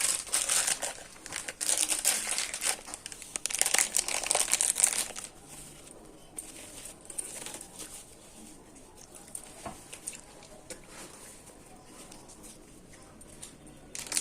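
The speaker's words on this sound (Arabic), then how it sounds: "هفضي برضه الكيس التاني اهو، يبقى فضينا كيسين ملح" Small plastic bags of salt are emptied out by hand while fesikh is prepared in a home kitchen, making busy crinkling and rustling with pattering grains for about five seconds, then fading to quieter scattered handling noises.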